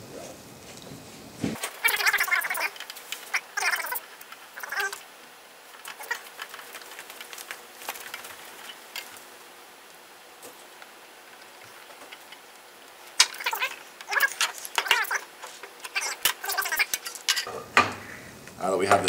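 Screws being removed while a computer power supply unit is taken apart: sparse metallic clicks, ticks and light rattles of small parts and tools, close and fairly quiet, with long near-silent stretches between bursts of handling.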